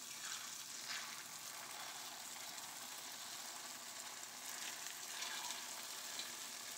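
Churro dough frying in hot oil, a steady close-up bubbling sizzle that holds evenly throughout with no voices.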